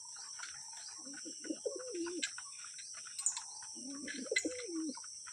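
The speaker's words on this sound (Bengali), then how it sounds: "এখন এই কটাই পায়রা আছে" Lotan pigeons in a home loft in Bengal give soft, faint cooing phrases in two bursts, with light chirps and a steady high hiss in the background.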